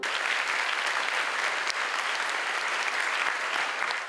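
A concert audience gives sustained applause during a classical piano recital by a Paiwan pianist, a dense, even wash of clapping from a packed hall with no talk over it.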